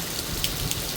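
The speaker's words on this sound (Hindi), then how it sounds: "बहुत ही तेज़ तेज़ बारिश हो रही है" Heavy rain pours just outside an open door, a loud, dense, steady hiss of drops hitting hard surfaces, with a few sharper splashes standing out and no voices.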